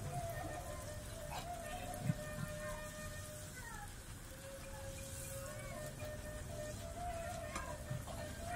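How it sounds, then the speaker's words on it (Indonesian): Kembang goyang batter deep-frying in oil over medium heat, a steady soft crackling sizzle running throughout at close range, with faint tones and clinks over it. "Dan saya goreng pakai api sedang."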